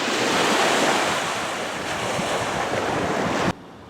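Surf washing onto a Gulf of Mexico beach at Fort De Soto Park in Florida, a loud continuous wash of waves mixed with strong wind buffeting the microphone, ending abruptly.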